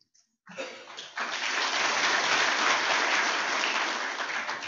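An audience applauds a speech at a university graduation ceremony, starting with a brief scatter of claps and swelling into steady, loud, sustained clapping that fills the rest of the clip.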